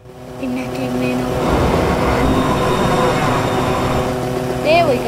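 A train rolls past in the Roblox game LiveTopia, a loud sustained rumble with clanking that swells and holds close by, ending with a brief tonal chirp.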